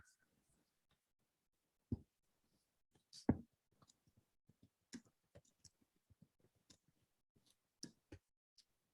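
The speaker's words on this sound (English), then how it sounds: "Can you type it for me?" Sparse, quiet keystrokes on a keyboard tap out in short irregular bursts with gaps of silence, a few louder clacks standing out among lighter clicks.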